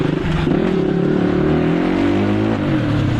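A loud motorcycle engine revs hard, its rising pitch and roar sweeping up as the rider presses the accelerator to clear a path through traffic for a stuck ambulance. The roar is close and continuous, with no talk.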